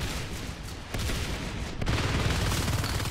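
Shotgun fire in Natural Selection 2 comes as a dense, continuous barrage of blasts and crackling impacts, loud and close, with two sharper shots standing out in the mix.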